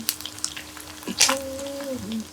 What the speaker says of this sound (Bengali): মাছটা আমি একটু বেশি ফ্রাই করি